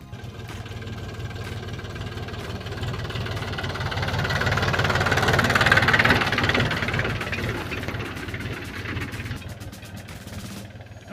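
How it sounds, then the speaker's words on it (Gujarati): A tractor engine chugs steadily close by, a low knocking drone that swells louder in the middle then eases back, with no voices. "આ ટ્રેક્ટરથી ભર ઉપાડે કેમ ઉપાડે તમને બતાવું"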